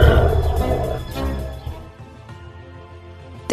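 A tiger lets out a deep rolling growl that is loud at first and then tapers into a low rumble over a few seconds, heard alone.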